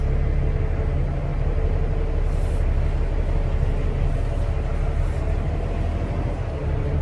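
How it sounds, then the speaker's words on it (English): A semi truck pulling away from a mechanic shop in Houston after its parking brakes are released, a steady, heavy, low engine rumble that stays close and even for seven seconds, with no talk. "Just release the parking brakes, and we're gonna pull out."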